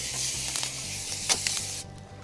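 Shortening sprayed into a Dutch oven before baking bread, a steady hissing spray with a few short bursts, close and fairly soft, cutting off abruptly near the end.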